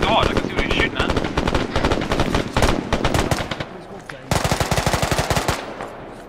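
Rapid, sustained bursts of PKM machine gun fire in the military shooter Arma 3, loud and close, with a brief lull before a fresh volley of evenly spaced shots.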